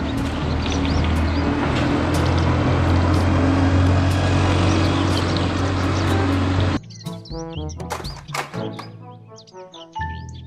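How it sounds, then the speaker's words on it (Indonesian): A city bus engine runs with a loud, dense rumble for about seven seconds, then cuts off and gives way to a short burst of bright, tonal chirps and beeps. "Mobil bus kota."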